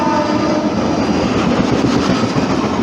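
Loud, close rumble of an express train arriving at Kappil Railway Station, a steady heavy roar of wheels and carriages throughout.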